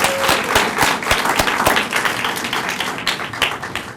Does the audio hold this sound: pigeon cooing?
no